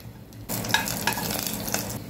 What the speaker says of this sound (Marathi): लसणाचे 4 ते 5 पाकळ्या ठेचून घेतल्या त्या टाकूया